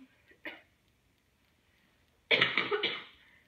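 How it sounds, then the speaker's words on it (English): A person coughs close by: first one short, faint cough, then after a pause a louder burst of several rough coughs in quick succession, with no speech. "Coughing."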